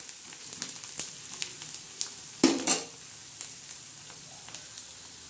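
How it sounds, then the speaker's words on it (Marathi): Onion frying and sizzling in a pan, browning for a spicy wild greens dish, with a steady crackling hiss and a brief louder burst of stirring partway through. "आता आपण हा कांदा मस्त खमंग होत आहे म्हणजे चांगला असा लालसर असा भाजत आहे"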